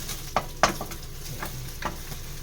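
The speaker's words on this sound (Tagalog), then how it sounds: "Ito na ang egg. Kailangan kasi hiwa-hiwalay ang egg natin." An egg stirred and fried in a pan, with a steady sizzle and a few sharp utensil scrapes against the pan, close up, no talking.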